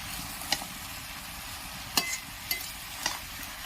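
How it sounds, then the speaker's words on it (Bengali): Spoon stirring a Bengali mixed vegetable curry (labra) cooked with fish head in a pan, giving a few scattered scraping clicks over a soft steady sizzle, moderately near with no talking. "বন্ধুরা ঢাকাটা তুলে আরেকবার নেড়ে দেবো।"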